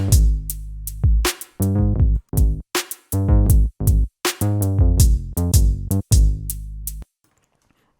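A bass line with no reverb over a drum beat, its sustained low notes cutting off cleanly without any lingering echo.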